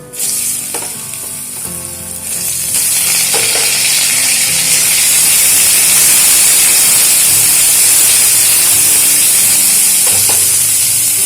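Cut potatoes hit hot mustard oil tempered with black cumin and whole white cumin, the frying rising into a loud, steady sizzle that holds throughout with a few stirring scrapes, no voices.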